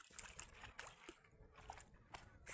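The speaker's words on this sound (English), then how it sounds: "she's getting in the water" Water splashes and sloshes in a small body of water outdoors in the woods at night, with irregular short bursts of splashing, moderately close, with faint talk in the background.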